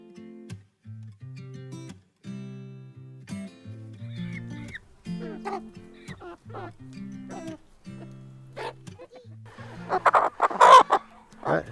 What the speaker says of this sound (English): This is the third generation of chickens.